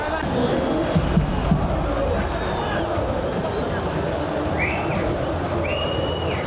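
A football stadium crowd at an Espanyol match applauds in the minute 21 tribute to Dani Jarque, a broad steady roar of clapping and cheering with a few whistles rising through it, heard from within the stands.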